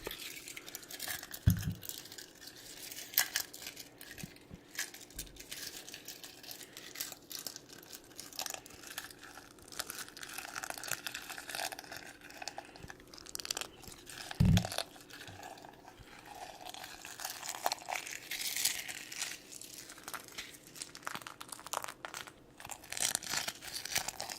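Loud, close crunching and crinkling as hard candy eggs are chewed, with irregular crackling bites and occasional sharper snaps continuing throughout, no talking.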